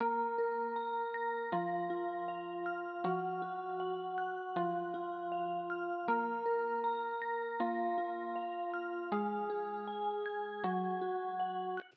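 Bell melody pitched an octave down, slowed with a halftime effect and shaped with EQ and chorus, ringing out as sustained, layered tones in a steady rhythm of new notes every second or so, with no talking.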